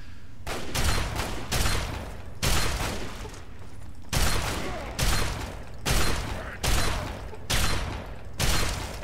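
Gunfire from enemies in the video game Fallout 3, loud repeated bursts of shots arriving in regular waves about every second, heavy and close, with no one speaking over it.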